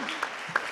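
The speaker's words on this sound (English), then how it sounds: "Big applause for Yvonne." Short burst of audience applause at a conference stage event, a steady wash of clapping with a couple of sharper claps standing out, fairly faint.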